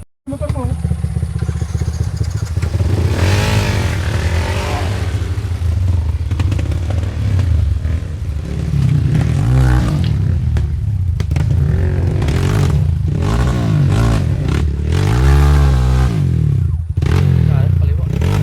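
A motorcycle engine on a trail revs and roars continuously up close, rising and falling in pitch, with voices talking and shouting over it.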